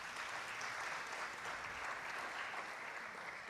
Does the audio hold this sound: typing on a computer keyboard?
no